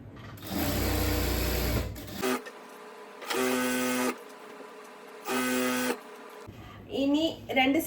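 A sewing machine runs in three bursts while stitching the yoke neck of a churidhar, loud and close with brief pauses between each run, and a voice speaks near the end.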